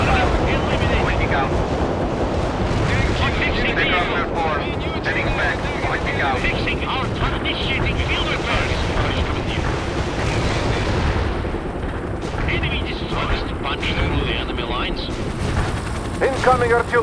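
Heavy artillery fire in the video game World in Conflict, with dense rolling blasts and crackling gunfire sustained throughout, mixed with battle noise and spoken radio chatter over the top.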